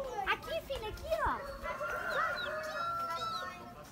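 A rooster at a small farm in Campos do Jordão clucks and calls repeatedly nearby, while someone talks over it and children's voices are heard in the background.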